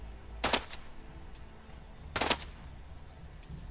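Two separate bursts of laser rifle fire in the video game ELEX, each a short, bright crackling blast, spaced well apart over quiet game ambience.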